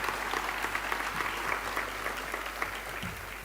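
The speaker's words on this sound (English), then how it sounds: "So I think you all should give yourselves a huge hand of applause." Steady applause from a seated audience at a girls' school prize-giving ceremony, a dense even patter of many hands sustained throughout without pause.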